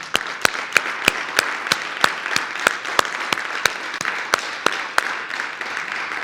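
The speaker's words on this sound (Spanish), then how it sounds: "Un aplauso para Irene Vallejo." Audience applause for the author Irene Vallejo at a talk on books and libraries, heard as a steady clapping wash with a regular series of sharp, louder claps standing out above it.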